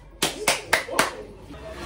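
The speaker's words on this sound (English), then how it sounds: "Clap for the master." Four sharp claps ring out one by one for the cook in a home kitchen, each loud and distinct with a short decay, followed by quiet room tone.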